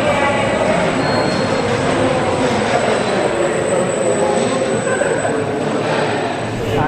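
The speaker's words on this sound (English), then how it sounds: "we're getting on Red Force, and yeah, really excited to ride this beast of a coaster again" Red Force roller coaster train at Ferrari Land, PortAventura World, rumbles with a loud, steady roar of wheels and rushing wind, and riders' voices are faintly mixed in.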